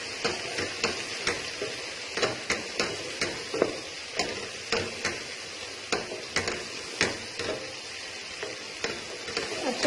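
Okra being stirred in a frying pan with ground coriander, cumin, red chili and ajwain, giving a close, steady sizzle broken by regular scraping strokes of a spoon about twice a second, no voices.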